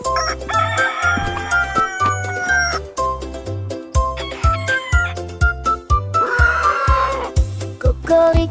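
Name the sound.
rooster crowing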